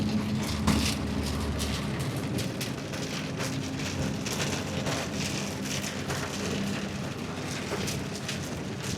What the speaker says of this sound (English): More hail to go through